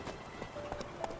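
Horse hooves clip-clop at a steady trot in The Witcher 3: Wild Hunt game, several close, fairly soft footfalls over a constant background bed, with no talk.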